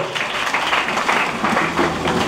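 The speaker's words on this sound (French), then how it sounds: "on acclame très fort" A church congregation applauds loudly at a sermon on Joseph, a steady, dense wash of many hands clapping close and sustained for a couple of seconds with no voice over it.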